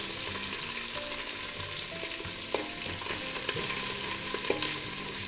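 Green chilies, curry leaves and fresh ginger garlic paste fry in a pot for biryani, giving a steady close sizzle with occasional stirring clinks and scrapes.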